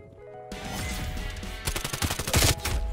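Rapid bursts of AK-74u automatic fire in Call of Duty Cold War crack out loud and close after a brief quiet start, with the shots turning denser and harsher toward the end.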